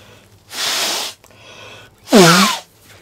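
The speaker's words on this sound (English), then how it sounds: "Hold on. I need to sneeze." A character in The Walking Dead: A New Frontier game sneezes twice, close and loud, with a rising breathy intake before each burst and a short pause between them.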